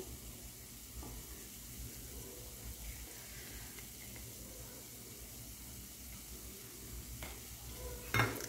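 Black masala spice mix is fried in oil in a pan for a village-style chicken gravy. It gives a soft, steady sizzle with occasional stirring scrapes, faint and continuous, and ends in a brief louder clatter.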